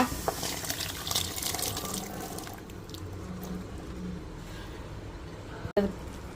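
Water left from boiling fresh green field beans is poured into a cooking pan for a Tamil kootu, a steady splashing trickle that tapers off before a sharp knock near the end.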